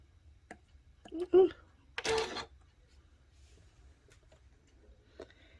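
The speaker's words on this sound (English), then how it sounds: "we're gonna stitch super slow" A sewing machine stitches very slowly through a quilt guided by a ruler, producing sparse, soft mechanical clicks one at a time, with brief bits of speech in between.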